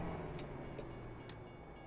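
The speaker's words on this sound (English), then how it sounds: "That's cool, we get to see a train." A train passing in the American Truck Simulator video game, a low, steady rumble with a faint rolling hum held at moderate distance for a couple of seconds.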